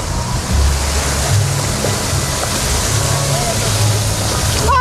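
Water sloshing and surging around a raft on the Gold River ride at Walibi Rhône-Alpes, a loud continuous rush of churning waves with low rumbling swells, riders' voices faintly mixed in.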